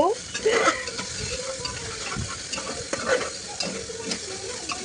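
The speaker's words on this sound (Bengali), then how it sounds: "এই দেখো আমাদের ভাজা হয়ে গেছে আদা রসুন, তেলও বেরিয়ে গেছে" Ginger garlic paste fries in oil, sizzling under repeated spoon stirring and scraping strokes at close range.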